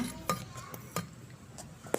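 A spoon stirs ragi flour into idli rava batter in a bowl, giving a few soft scraping strokes and clinks spread across the moment, close and quiet with no talk.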